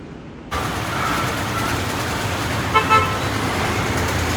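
A delivery vehicle travels along a road in Kerala, with steady engine and road noise throughout and a brief horn toot partway through.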